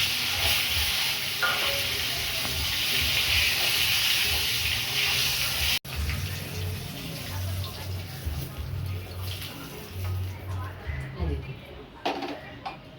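Pointed gourd pieces fry in hot oil in a pan with a loud, steady sizzle that later softens to a fainter crackle amid stirring and scraping. A voice talks in the background.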